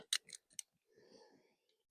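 Garden plant stems snipped off with a few sharp, close cuts in quick succession, followed by a soft rustle of foliage.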